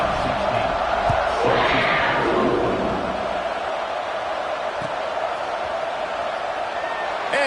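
A football stadium crowd cheers at kickoff, a broad, loud roar that swells briefly and then settles into a steady rumble of voices.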